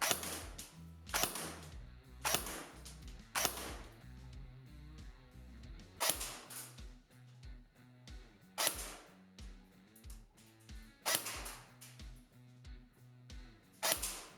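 Ares VZ.58 Short airsoft rifle on a 7.4 V lipo firing 0.2 gram BBs, a series of sharp close cracks in uneven bursts with mechanical clatter between, no talking.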